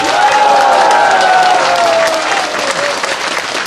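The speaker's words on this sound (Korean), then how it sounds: "박수 한 번 보내시기 바랍니다." A crowd at a Korean political rally bursts into loud applause and cheering, steady dense clapping near and full throughout, with raised voices and shouts running through it.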